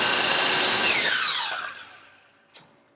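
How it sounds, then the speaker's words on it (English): A miter saw cutting a wooden frame piece for a picture frame: a loud whining blade cut that winds down over about two seconds, followed by a single faint knock. "So I'll go to the miter saw now and cut this."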